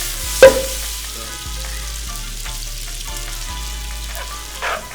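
Cooked pasta tossed in hot rendered bacon fat in a pan for carbonara, a steady sizzle and frying hiss with a sharp clatter as the pasta goes in and soft stirring scrapes, alone without talk.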